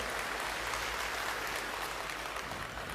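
An audience at an anniversary event claps together in a steady, even wash of applause, moderately distant and sustained without a break for the few seconds heard.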